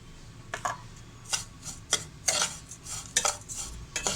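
Vermicelli stirred with powdered milk and butter in a pan produces a rhythmic series of close spoon scrapes and taps against the pan, roughly one every half second, with a soft sizzle underneath.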